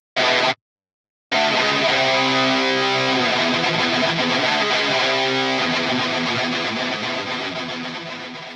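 A Line 6 Helix produces a distorted rhythm guitar tone from a preset: a loud, palm-muted heavy riff after a brief opening chord and a short silence, with sustained chugging that slowly fades toward the end.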